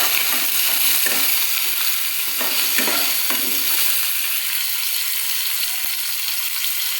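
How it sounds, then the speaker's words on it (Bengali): Green beans frying in a pan over a medium flame for paneer fried rice give a steady, close sizzle, broken by a few sharp scraping knocks of a spatula stirring them. "বিনসগুলোকেও এবার আমি কিন্তু ভাজবো"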